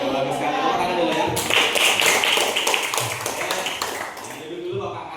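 A classroom of students clapping together, a dense burst of hand claps that swells, then thins out and fades, with voices mixed in.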